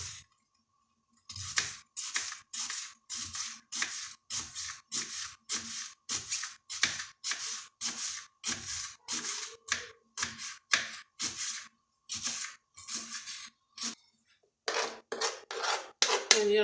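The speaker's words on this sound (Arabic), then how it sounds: "دابا غادي ندير مع هاد 2 بصلات خضريات حتى هما غادي نقطعهم من رقاق بزاف" A knife slices two green onions very thinly on a board, crisp regular chops in quick succession with a brief pause before a final flurry, close and alone.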